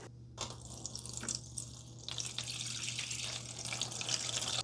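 Vinegar pours into a container holding GameCube parts for soaking, a soft continuous trickling and splashing stream that grows slightly fuller over a few seconds, quiet and close.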